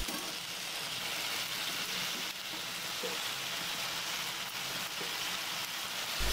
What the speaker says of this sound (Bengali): এখন নাড়াচাড়া করে মশলাটা ভালোভাবে কষিয়ে নেব, যেন মশলার কাঁচা গন্ধটা না থাকে।